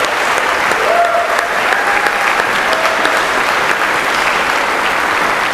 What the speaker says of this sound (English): How about one more round of applause for the 2018-19 Concert Orchestra?